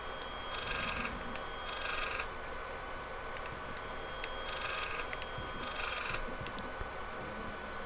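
A telephone rings inside the horror video game Layers of Fear, repeating in bursts of electronic ringing at a steady rhythm, fairly loud over a low, dark ambient background with no talking.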